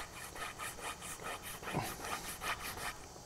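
Grey compound rubbed onto an axe strop, a steady, rhythmic scrubbing with repeated back-and-forth strokes, close and moderately quiet with no speech.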